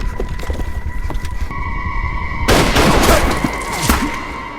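A film battle scene with a sniper: loud bursts of gunfire and booming impacts crash in over a droning, tonal score, growing dense and rough in the second half.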